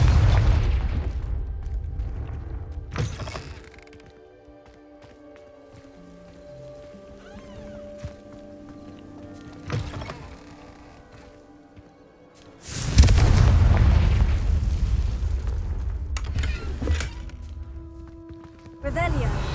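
Confringo blasting spell going off in the Hogwarts Legacy video game, a loud, broad booming burst that swells suddenly and holds for several seconds over a game soundscape, with voices talking earlier.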